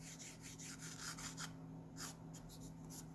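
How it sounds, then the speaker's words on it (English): Sanding block rubbed over a wooden radius, giving soft rhythmic rasping strokes, close and fairly quiet, over a steady low background hum. "I need to drop my sanding block down here."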